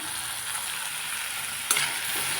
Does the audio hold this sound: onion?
yes